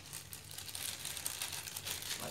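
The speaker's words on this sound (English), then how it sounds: "now we use the plastic bag" Plastic bag crinkling steadily while coffee is grafted, joining arabica and excelsa stems, close and fairly quiet with soft continuous rustling and no talk.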